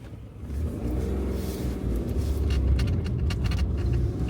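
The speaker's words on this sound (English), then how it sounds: "You can hear when she revs up, that is her getting stroppy with me." A Citroen C1 small car engine revs and strains, a loud, continuous close rumble with rising and falling surges and no talking.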